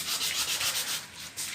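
Steady back-and-forth rasping of sandpaper on the thin metal body of a 1977 Colt T-120 pickup under restoration, in regular strokes with a brief pause near the end.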